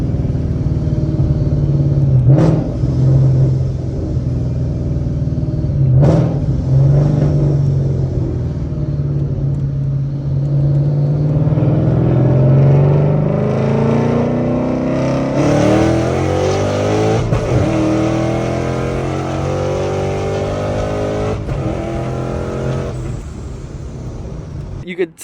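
A boosted S197 Ford Mustang accelerates hard at wide-open throttle, its loud engine rising in pitch through the gears with audible shift breaks. The car is heard close up and runs continuously for the whole stretch.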